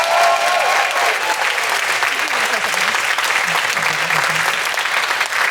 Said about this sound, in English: Can I have a big round of applause for Cody and Ben?